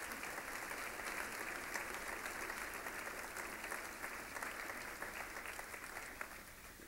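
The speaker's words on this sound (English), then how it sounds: "can I have a round of applause for them?" A round of applause for Jim's parents, Catherine and Jim Judge, rises from a seated crowd at the Boston Irish Honors event, a steady, even wash of clapping heard from a distance at fairly low level throughout.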